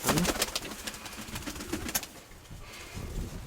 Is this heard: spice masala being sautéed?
no